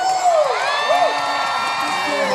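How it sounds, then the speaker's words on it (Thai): An audience breaks into loud cheering with high whoops and excited shouts, a lively burst of crowd noise close at hand, with any clapping buried beneath the voices. "พวกเราขอ ปรบมือให้กับทัศน์เมืองไทยที่น่ารัก"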